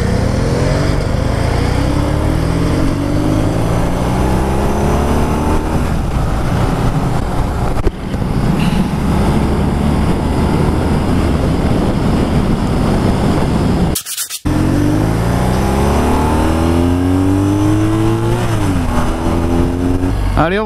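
A BMW R nineT flat-twin motorcycle accelerates through several gears, its engine pitch rising and dropping with each shift, loud and close over wind noise, with a brief cut partway through.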